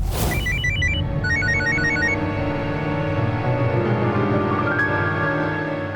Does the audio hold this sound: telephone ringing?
yes